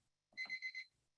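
An alarm timer beeps in a quick run of four bright, evenly spaced pulses, close and clear, then stops abruptly in a quiet room.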